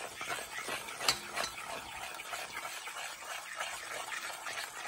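A spoon stirs sugar into a peanut butter bar mixture in a 9x13 pan, giving a steady, soft scraping and swishing close by, with one brief clink near the start.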